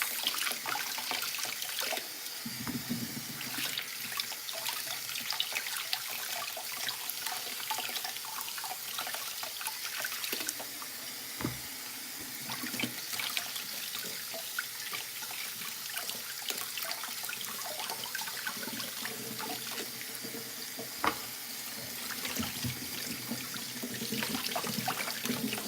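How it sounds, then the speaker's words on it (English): Water runs steadily from a kitchen tap into a sink while something is rinsed under it, a soft continuous wash with small splashes and clatters, fairly quiet and with no one talking. "Rinse, rinse, rinse."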